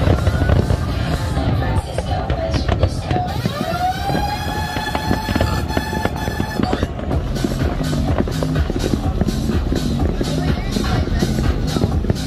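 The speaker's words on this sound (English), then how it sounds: "now it's time to watch the fireworks to celebrate the 4th of July" Fourth of July fireworks over the Miami Beach sandbar, heard as a steady run of crackling bursts and pops amid boat-party noise, with a siren-like whistle rising partway through and people talking nearby.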